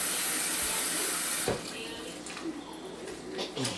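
Hot water runs steadily from a tap during beer brewing, with a broad hiss, then shifts to a splashier, uneven flow with faint clinks near the end.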